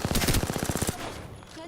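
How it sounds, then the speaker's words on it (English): Enemy gunfire in a video game: a loud, rapid burst of automatic shots that runs for under a second and then cuts off. "The enemies are shooting at me."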